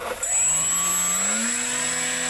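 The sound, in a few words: RC model electric motors spinning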